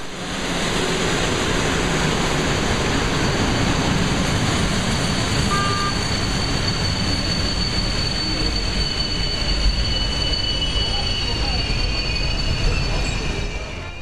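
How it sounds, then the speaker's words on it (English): A train rolls through Poznań main station in a steady, loud rumble of wheels on rails, with a high thin wheel squeal running throughout and brief faint tones sounding midway. "But the steam train is already on its way back to Wolsztyn"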